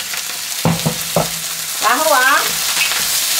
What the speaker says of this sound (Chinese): 红萝卜放下去，炒一炒，龙菜放下去